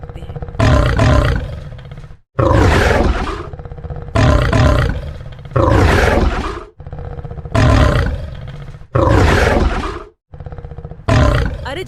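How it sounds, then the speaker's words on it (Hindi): Repeated ferocious lion roars in a Hindi moral cartoon set in a jungle, about six loud bursts each lasting around a second, separated by brief silences, with no talk over them. "तभी एक खूंखार दहाड़ के साथ जंगल में शेर आता है।"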